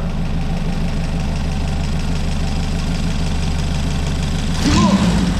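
A rebuilt CHT engine from a VW Gol idles smoothly and steadily at low revs, a close, even mechanical hum throughout, until a short burst of voice and clatter at the end.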